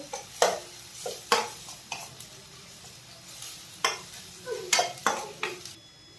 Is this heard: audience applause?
no